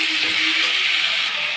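Vegetables and ginger paste sizzle steadily in a hot pan, a continuous close frying hiss with no talk.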